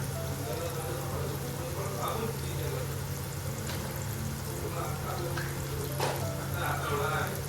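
Homemade masala and chilli powder frying in a pan for a chicken dish, a continuous close sizzle with stirring scrapes and low hum, a voice speaking over it at times.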